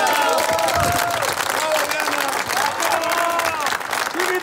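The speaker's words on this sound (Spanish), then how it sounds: "Un aplauso para Diana y la porra fuertísima" Crowd applause and cheering at a charity ride event, dense and continuous throughout, with voices shouting within the noise.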